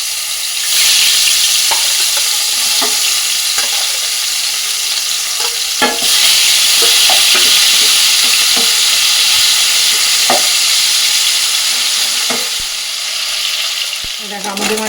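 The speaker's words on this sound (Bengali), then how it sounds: "এবার আমাদের মাছগুলো লাল লাল করে ভেজে নেবো" Pieces of fish frying in hot oil in a wok, a loud dense sizzle that swells as the fish goes in, with scattered clinks and scrapes of a spatula against the metal, close up and without talk.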